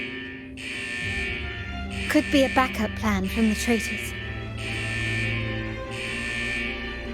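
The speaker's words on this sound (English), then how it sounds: "Is that the central alarm of the vault?" The vault's central alarm buzzer in Wuthering Waves drones as a steady, moderately loud tone, fading briefly while a voice speaks over it, then returning at full strength.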